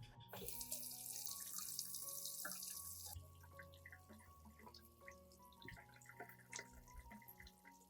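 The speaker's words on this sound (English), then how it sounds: "First, I will wash the carrots under clean running water." A kitchen tap runs in a strong hiss for a few seconds while carrots are washed, then shuts off, leaving drips and small clatters of things being handled in a sink.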